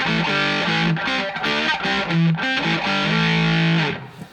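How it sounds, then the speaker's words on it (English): A Brelliott Deluxe TODP pedal drives a germanium overdrive stage into a tube, giving loud, gritty distorted guitar notes and chords that ring out for several seconds before cutting off. "It's not quite reaching overdrive on the tube, but it is overdriving the germanium"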